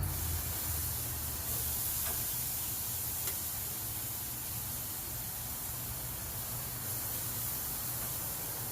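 Steak sears on a hot grill with a steady, loud sizzling hiss that fills the whole stretch. No voices are heard.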